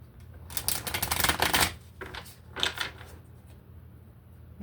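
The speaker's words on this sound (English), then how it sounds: "Shuffle these up." A deck of bright, colorful tarot cards being shuffled by hand, a close run of riffling bursts with a short pause and a second shorter riffle, no talking.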